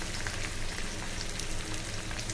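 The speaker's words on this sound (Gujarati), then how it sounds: "હવે આપણે તેમાં સુધારેલા મૂઠિયા નાખીશું" Chopped rice muthiya sizzling in a pan for Gujarati bhatna muthiya, a steady, close crackling fry that fills the whole moment without pause.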